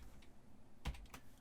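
Computer keyboard typing while coding a web page: a couple of quick, close clicks near the end of a quiet stretch, with no voices.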